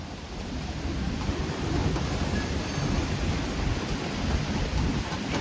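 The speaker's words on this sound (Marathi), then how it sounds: "किती जोरदार वादळ आलेले आहे आणि वारा पण एकदम भन्नाट चाललेले आहे" A strong storm wind roars as a steady, loud, broadband rush with some low rumble throughout, no voices.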